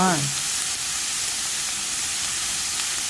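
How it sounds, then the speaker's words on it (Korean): Oil heats in a frying pan with a steady, even sizzling hiss that holds for the whole stretch after a brief voice at the very start. "이제 팬에 기름 좀 두르고요. 좀 달궈지면은"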